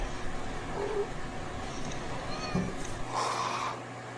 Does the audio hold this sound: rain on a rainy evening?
no